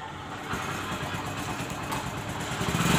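An old Hero Honda motorcycle engine runs just after starting, a close, steady putter of idling that builds toward a louder rev at the end.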